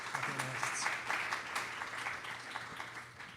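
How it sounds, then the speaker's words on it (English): An audience at a student wellness launch event at Langston Hughes Academy gives a brief round of applause: many scattered claps, fairly close and moderately loud, tapering slightly toward the end. "Maybe a quick round of applause."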